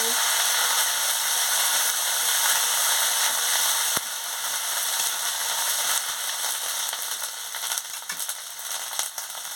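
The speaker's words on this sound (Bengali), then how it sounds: "আদা বাটাটা দিয়ে দিচ্ছি দিয়ে ভালো করে ভেজে নিচ্ছি" Ginger paste fries in a pan with tempering spices and dried chili, a steady, close, loud sizzle that softens slightly partway through, with almost no talk.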